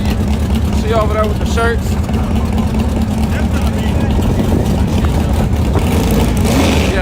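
A nitrous-equipped drag car engine roars loud and close in a steady, unbroken drone, with people talking over it.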